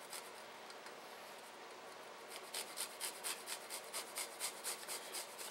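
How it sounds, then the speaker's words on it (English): Small garlic cloves being grated into ketchup, faint scratchy rubbing at first that turns into a run of about a dozen quick, rhythmic rasping strokes. "I'm just grating the garlic into the ketchup"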